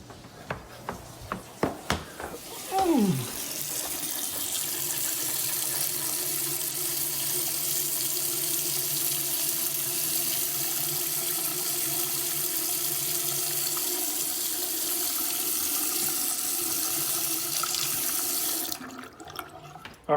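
Water rushes steadily through a 60-gallon water heater and out an open faucet, a loud continuous hiss and gurgle that holds for nearly twenty seconds after a few brief knocks, then cuts off near the end.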